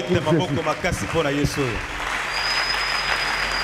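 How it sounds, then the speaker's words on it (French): A church congregation breaks into loud, sustained applause right after a preacher's voice stops, the clapping continuing steadily to the end. "Acclamons très fort."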